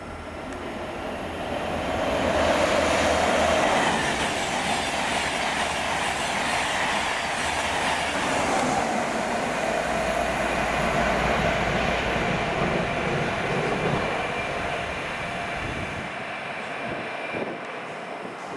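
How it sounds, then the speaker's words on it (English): A classic Intercity 225 train passes through Welwyn Garden City station on the East Coast Main Line. Its loud rumbling roar rises near and holds with rolling wheel noise and faint squeal, then fades off toward the end. "got one of the classic Intercity 225s coming."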